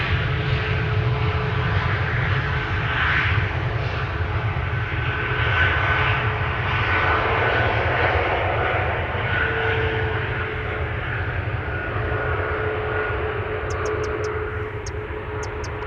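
Embraer E2 jet airliner at Amsterdam Schiphol, a steady, fairly quiet engine drone holding evenly throughout with no talk, a few faint high clicks near the end.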